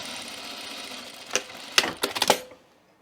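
Close sewing machine running a seam beside a shirt sleeve placket, a continuous motor hum broken by a cluster of sharp mechanical clacks before it stops and falls quiet.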